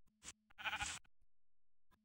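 A single sheep bleats once in Minecraft, short and nasal, between brief clicks and a low steady tone, sounding like a video game effect.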